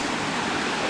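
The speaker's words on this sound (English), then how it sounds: "Pretty little waterfall." A small waterfall on a hiking trail gives a steady, close rush of falling water, a dense hiss with no voices or other sounds over it.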